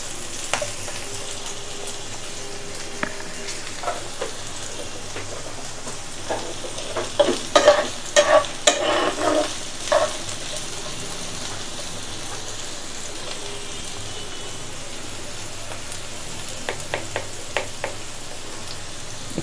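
Onions frying in a pan for a dudh kochu shak dish, a steady soft sizzle throughout with a cluster of scraping stir strokes in the middle and a few more near the end, no talking.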